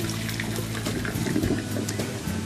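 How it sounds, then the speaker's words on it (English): Cold water runs from a sink tap over freshly boiled, drained eggs, a steady close splashing rush with a low hum underneath and small irregular gurgles, no talking. "Keep running cold water over them"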